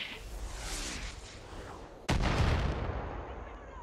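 A single sharp blast from an explosion in Far Cry 5 on Xbox One cuts through the steady game ambience, its rumble slowly decaying over the following second and a half.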